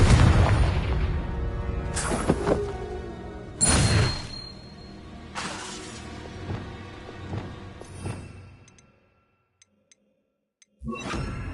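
Repeated Confringo fire spells blasting in Hogwarts Legacy on PS5: several booming explosions with whooshing tails about every one to two seconds, close and loud, then a short near-silence before one more hit.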